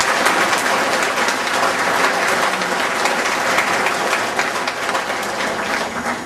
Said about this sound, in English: let's give them a applause right now